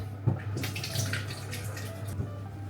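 Hands are washed under a running kitchen tap, with a steady close stream of water, some splashing and a few brief knocks, and a constant low hum underneath.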